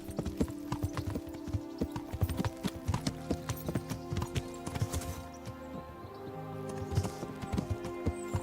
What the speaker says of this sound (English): this time I actually get to ride on a horse